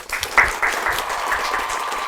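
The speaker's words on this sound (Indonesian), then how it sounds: "tepuk tangan dulu dong guys" Loud, close applause from an audience at an Indonesian talk show discussing a documentary film, a brief burst of many hands clapping with a faint tonal hum underneath.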